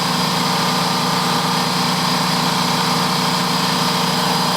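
A power cutting tool slices the front ear off a Squarebody truck bumper bracket, a loud, continuous high-pitched whine with a gritty edge that stays steady and close throughout.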